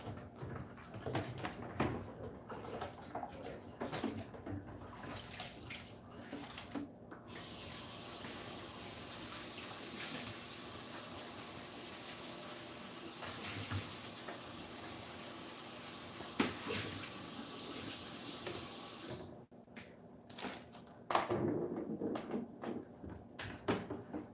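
A kitchen tap gushes in a steady, hissing stream for roughly twelve seconds while fruit and vegetables are rinsed, with quieter clatter before and after the water runs.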